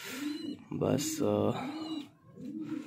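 Breeder pigeons in a home loft give soft, repeated low cooing calls close by, with someone speaking briefly in between.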